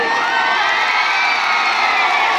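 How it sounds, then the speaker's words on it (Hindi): A huge outdoor stage-show crowd in Kolkata roars and cheers continuously, a dense, loud wall of shouting and whooping with no break. "एक जो और ताली होनी चाहिए।"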